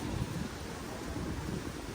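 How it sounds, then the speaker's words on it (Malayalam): Wind and light rain on a cold, drizzly day at Lake Lisi in Georgia: a steady, unbroken rush of wind buffets the microphone with a low rumble under a constant broadband hiss. No one speaks. "മഴ പെയ്തുകൊണ്ടിരിക്കുന്നുണ്ട്"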